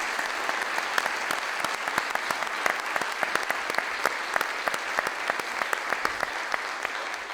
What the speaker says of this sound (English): He deserves another round of applause.